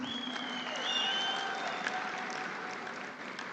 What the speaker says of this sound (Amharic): እስቲ አንድ ጊዜ አጨብጭቡ ፕሊዝ